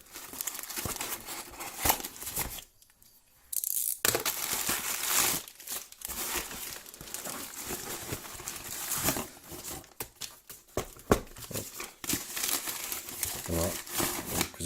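Packaging of a HomTom S99 smartphone is opened by hand, with steady crinkling, rustling and tearing of plastic and cardboard close up, broken by a brief quiet gap, while a voice speaks at times over it.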